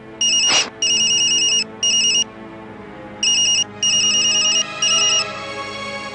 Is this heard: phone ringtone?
yes